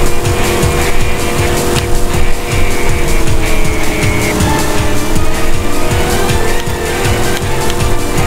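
Race cars in the kart racing video game Crash Tag Team Racing roar continuously at close range, engines droning loudly with repeated tire squeals and skids, and no talk.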